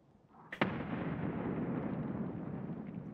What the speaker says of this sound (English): Who are you throwing grenades at? A building?